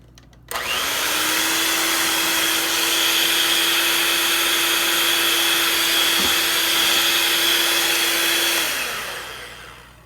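An electric hand mixer whirs through banana bread batter with vanilla and buttermilk, switching on abruptly and running steadily at high pitch for about eight seconds before winding down.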